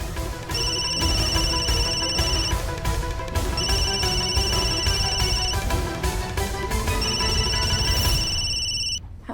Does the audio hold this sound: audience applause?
no